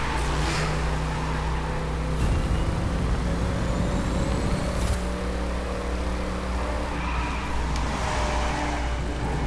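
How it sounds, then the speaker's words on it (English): Trucks driving in The Crew 2 racing game, a steady loud engine drone with low rumble and tonal hum, broadband road noise throughout with a brief surge near the middle, no talking. "This dude wants to run trucks."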